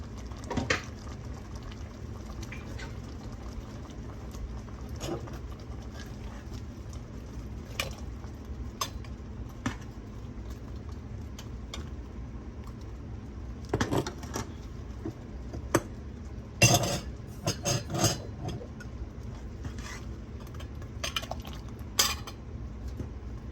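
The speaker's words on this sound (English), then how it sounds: "start ladling our jars full of this wonderful smelling jam" Apple pie jam ladled from a pot into glass canning jars, with scattered clinks and taps of metal against glass and pot over a steady low kitchen hum; no one speaks.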